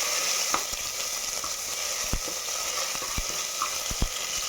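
Ginger garlic paste sizzles steadily in hot oil in a pan while being stirred, with a constant frying hiss broken by scattered clicks and scrapes from the spoon, close and without speech.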